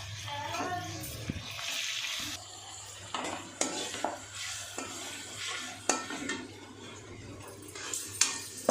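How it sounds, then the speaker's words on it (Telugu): Onions with salt frying in a pan for a Telugu-style tomato curry, stirred with a utensil that scrapes and clinks against the pan in bursts over a soft, steady sizzle, close by. "ఇప్పుడు కొంచెం ఆనియన్స్ వేగిన తర్వాత టొమాటో వేద్దాము"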